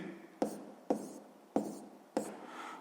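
Hand writing during a sixth-grade math exercise makes four crisp, evenly spaced strokes of a pen on paper, each with a short scratchy tail. The sound is close and quiet, with no voices.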